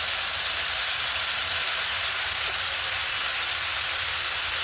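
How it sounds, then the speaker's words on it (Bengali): Spice paste hits hot oil for a large-fish curry and sends up a constant, even hiss that holds steady at moderate loudness with no pauses. "তো তেলটা গরম হয়ে গেছে, এখন মশলাটা দিয়ে দিলাম"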